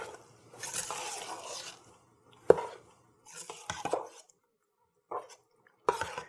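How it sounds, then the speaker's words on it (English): A spoon stirring a thick mixture of figs and sugar in a pot for jam, with intermittent scraping strokes and sharp clinks against the pot separated by quiet pauses, close and fairly soft. "Now let's stir this up just a little bit"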